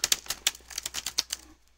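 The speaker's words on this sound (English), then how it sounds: "Here, I'll just bash my hands on the keyboard so it sounds like I'm doing something" Hands bash rapidly on a computer keyboard, giving a quick burst of about a dozen loud, irregular clacks that stop abruptly, close up and with no voices.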